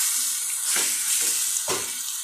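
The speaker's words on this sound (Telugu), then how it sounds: "గ్యాస్ హై ఫ్లేమ్లో ఉంచుకుని 1-5 నిమిషాలు ఫ్రై చేసుకోవాలి" Chopped cluster beans fry on a high gas flame for an onion masala fry, a steady close sizzle broken by two stirring strokes, with no talk.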